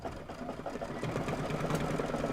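A sewing machine stitches a wide satin stitch on a table topper, a steady close mechanical whir with a fine rapid needle rhythm throughout.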